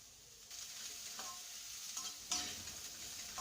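Finely chopped cabbage sautéing in a pan for egg fried rice, a steady hiss of frying with soft scraping stirs and a few brighter clatters, no talking.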